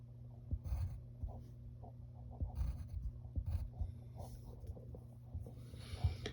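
A pencil scratches stripes onto paper for a drawing of Marvel's Falcon, quiet close strokes coming in short irregular bursts with soft pauses between them.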